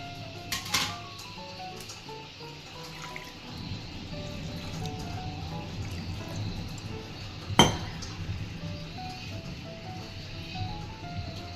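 Ground spice paste and rolled colocasia-style leaves being mixed by hand in a dish for a Kerala thoran, with soft wet squelches, a few clinks against the vessel and one sharp knock, close and fairly quiet.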